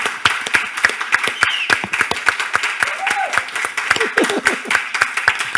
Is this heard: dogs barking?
no